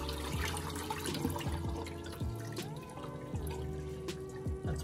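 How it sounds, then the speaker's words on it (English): Hot water poured off boiled boneless saltfish into a sink, a steady trickling and splashing stream with faint kitchen clatter, no talk. "Pour it off."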